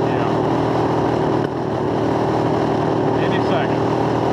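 A cheap offroad go-kart engine drones loudly and steadily close by, revving at a high pitch with a short dip partway through, while a voice speaks briefly over it.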